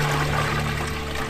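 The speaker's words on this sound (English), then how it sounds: "Pour a bucket of water into a cauldron." A bucket of water is poured into a cauldron outdoors for a fish soup, making a continuous gushing, splashing pour that fills the short moment over a faint low hum.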